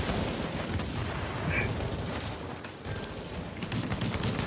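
Dense, continuous video-game gunfire from a shooter, rapid overlapping shots and bursts filling the scene at steady loudness with no talk.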